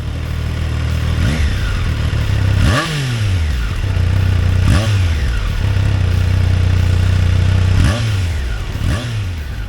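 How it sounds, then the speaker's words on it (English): A Triumph Daytona 660 motorcycle with a three-into-one exhaust revs repeatedly, each blip rising sharply then falling back to a loud idle, close and throaty with a raspy exhaust note. "The 3-in-1 exhaust sounds really good."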